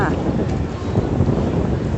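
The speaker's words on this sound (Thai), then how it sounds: "วันนี้ลมพัด นิดนึง ลมไม่พัดแรงจ้า" A light evening wind blows outdoors by an exercise area, buffeting the microphone with a steady low rumble and rustle. No words are spoken.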